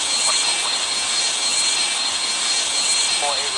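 A BAE 146 jet taking off in the Airline Commander flight game: a loud, steady engine roar with a high whine runs throughout, close and constant.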